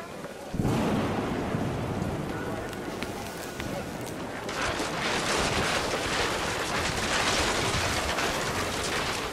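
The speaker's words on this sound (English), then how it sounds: "The rain came down in buckets then" In the video game What Remains of Edith Finch, heavy rain pours steadily around a crudely made tent, with a deep thunder rumble near the start and a denser downpour later, loud and close.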